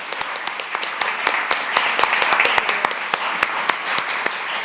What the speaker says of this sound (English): please join me in giving a big applause to the panel